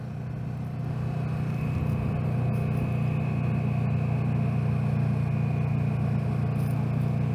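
A Kawasaki Z650 motorcycle engine cruises easily in third gear at around 4,000 RPM, giving a steady, even, low droning hum with wind noise and no sharp changes in pitch.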